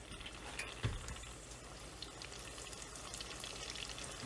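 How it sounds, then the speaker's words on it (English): Shrimp egg rolls frying in hot oil, a dense continuous crackling sizzle heard close, with a small splash or clunk early on and no talking. "let's get these going here for the first fry"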